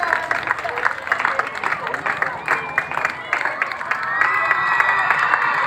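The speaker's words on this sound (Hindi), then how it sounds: "जोरदार तालियों से स्वागत कीजिए इन दो जवानों का।" Audience applause and cheering at a public event, a dense steady clatter of clapping with crowd noise running throughout, fairly loud and close.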